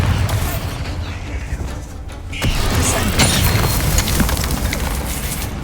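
Spell explosions from a Bombarda cast in Hogwarts Legacy, a loud rumbling blast with a crackling burst that swells after a brief lull and keeps roaring under dense game noise.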